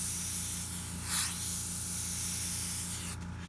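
Airbrush hissing steadily as paint is sprayed over a stencil for lion-hair effects, a continuous close airy spray with a brief surge partway through and a low mechanical hum from the compressor underneath.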